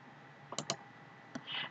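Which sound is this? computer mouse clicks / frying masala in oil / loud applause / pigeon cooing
computer mouse clicks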